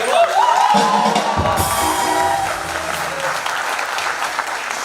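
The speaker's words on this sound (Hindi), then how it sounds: "जोरदार तालियां हो जाए।" Loud studio audience applause on an Indian comedy talk show, sustained dense clapping with some cheers and whoops, with a brief musical sting near the start.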